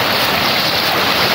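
Floodwater from an overflowing stream runs along a road and is channelled toward a drain, making a continuous, fairly loud, even rushing wash with no breaks.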